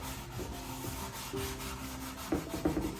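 A Scotch-Brite pad scrubs rust off a pan in steady, close rubbing strokes, with a few sharper scraping scuffs near the end and no talking.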